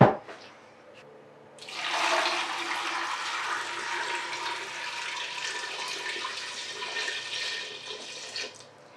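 Half a gallon of water pours into a glass jar for homemade apple cider vinegar, a steady rushing splash that starts after a short pause and runs continuously, loud and close.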